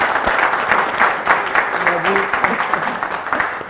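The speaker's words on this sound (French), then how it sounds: "on l'applaudit." A studio audience applauds a guest on a French health talk show; a loud burst of clapping with voices speaking over it.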